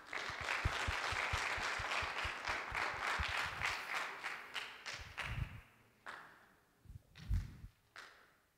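An audience at a public accountability hearing applauds to welcome a municipal mayor, with dense, steady clapping that thins into scattered claps and a few thumps toward the end.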